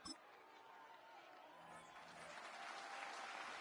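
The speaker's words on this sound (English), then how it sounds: "They're clapping. They love that pick." Crowd applause in Madden NFL after a draft pick in a Las Vegas Raiders franchise, faint and steady clapping that builds slightly over several seconds.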